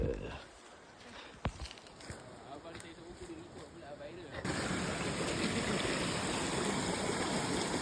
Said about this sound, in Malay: Sumber air ya.